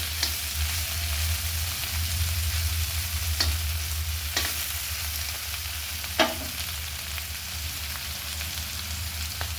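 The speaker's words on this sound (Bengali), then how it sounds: "ফুলকপি আলু দিয়ে হবে ভাজা, আর একটু দেখো আর একটু ভাজা হবে।" Cauliflower and potato pieces with green chilli fry in a pan with a steady close sizzle, punctuated by a few sharp spatula scrapes and taps, with no talking.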